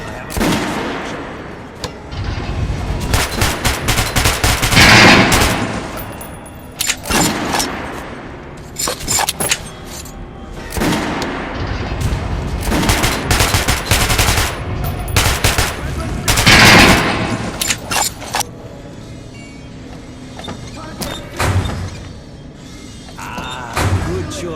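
Kalashnikov fire in the video game Metro Last Light Redux: loud, close bursts of automatic rifle shots, repeated rapid volleys with brief gaps between, sustained over the whole stretch.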